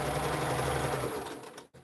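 A sewing machine stitches through dress form padding, a close, low-level steady whir that fades out and stops abruptly near the end, followed by a brief small knock.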